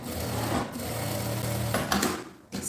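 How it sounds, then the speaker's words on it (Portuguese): A sewing machine runs a straight seam along bias binding that closes a makeup pouch pocket, its steady motor hum and rapid needle chatter continuous and close, pausing briefly near the end. "agora sim eu posso passar a costura reta aqui nesse viés"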